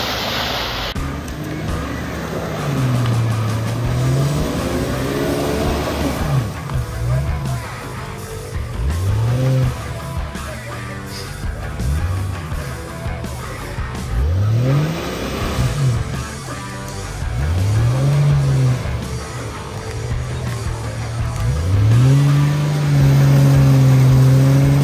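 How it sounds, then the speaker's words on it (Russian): A Renault Duster drives off-road, its mid-pitched engine rising and falling in repeated revving surges over rough ground, fairly loud and close, with no talk. "Вот видите, как Дастер красиво едет."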